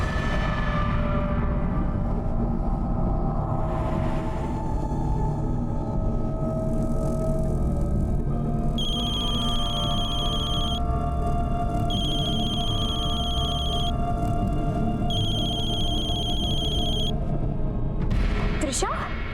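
A phone rings in three repeated electronic bursts, sitting under background music and people talking.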